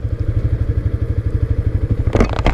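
A motorcycle rides through the Minato Mirai area of Yokohama at night, its engine a close, even, rapid pulsing throb, with a few clattering knocks near the end.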